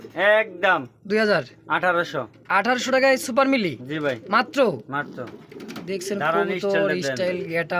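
Pigeons coo softly at a pigeon market, barely coming through beneath a man's steady, nearby talking, which fills almost the whole stretch.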